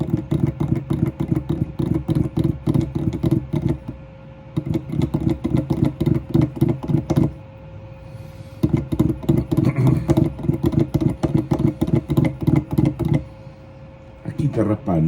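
Rieger oboe reed-making machine scraping cane in repeated rapid strokes, a dense rhythmic rasping that runs in bursts with short pauses around 4 and 8 seconds, close and fairly loud.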